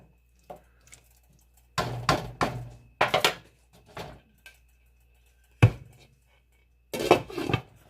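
Metal lid clattering onto a pot of simmering beef tips, several sharp clanks and rattles in separate bursts with quiet gaps between, close by.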